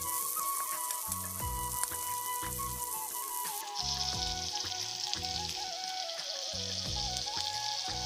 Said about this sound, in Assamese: এতিয়া আমি পিঁয়াজ আৰু ভোট জলকীয়া এটাৰে চিম্পুল ভাজি বনাম